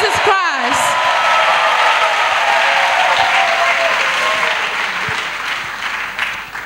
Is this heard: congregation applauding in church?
yes